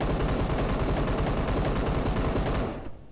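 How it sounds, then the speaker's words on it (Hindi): Sustained automatic gunfire in the mobile shooter BGMI, a loud, close, rapid machine-gun stream of shots lasting about three seconds before cutting off abruptly, no talk. "अबे सामने से कौन फायरिंग कर रहा है"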